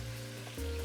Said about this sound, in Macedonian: Месото се запекува на силен оган, создава златна кора